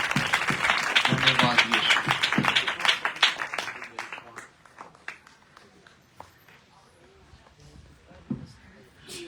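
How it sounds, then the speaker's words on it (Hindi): A Pentecostal church congregation at a wedding blessing ceremony claps loudly in welcome, a dense burst of hand claps under a voice that thins into scattered claps and fades out. "थोड़ी देर हम तो जोर से तालियों को बजाकर हम परमेश्वर के दास का हम स्वागत करेंगे।"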